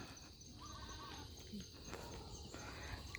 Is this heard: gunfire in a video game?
no